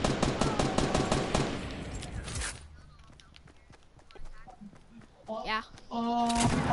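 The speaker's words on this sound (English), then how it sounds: "Is that you shooting?" Gunfire from the Fortnite video game, a rapid burst of loud shots in the first couple of seconds, then scattered quieter pops, with people talking over the game audio near the end.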